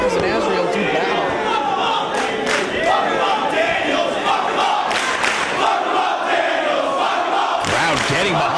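A wrestling crowd in New York City roars and chants for Christopher Daniels during a bout, a loud, steady wall of voices and shouts that never lets up.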